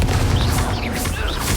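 A Confringo fire spell blasts in Hogwarts Legacy, a loud, dense booming burst with crackling, explosive texture filling the whole moment amid battle.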